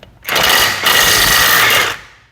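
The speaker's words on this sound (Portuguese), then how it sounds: "vamos ver se ela consegue soltar a roda da pampinha, né?" An impact wrench from a Nakasaki five-tool kit loosens a wheel nut on a small pickup, two loud close bursts of rapid buzzing hammering with a brief dip between them, then stopping.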